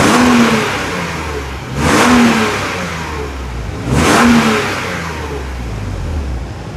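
BMW E36 328 coupe engine running and revving, with two sharp rises in revs over a steady, moderately loud mid-pitched engine note, heard up close with no talk.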